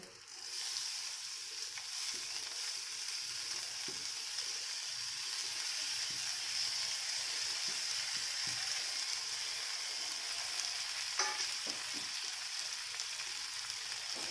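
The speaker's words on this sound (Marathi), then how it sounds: "त्याच्यात आपण शिधून घेतलेली डाळ टाकायची" Cooked lentils are stirred into oil with fried garlic for a dill greens dish, giving a steady, moderate sizzle with soft scraping and stirring taps throughout, no voices.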